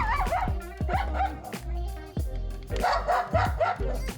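A dog being microchipped whimpers and yips in short, strained bursts with whiny rising and falling cries, close and fairly loud, interspersed with brief pauses and faint handling noise.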